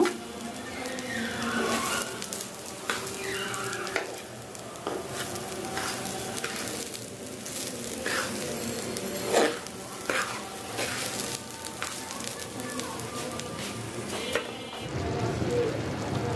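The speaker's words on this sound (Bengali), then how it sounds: "মাংস দেওয়ার পরে যে নেড়ে চেড়ে নিচ্ছি, তলে একটু লেগে লেগে যাচ্ছে।" Meat frying in a pan as it is stirred and scraped, catching slightly on the bottom: a loud, dense sizzle with repeated spatula scrapes and knocks, close up, fading briefly near the end.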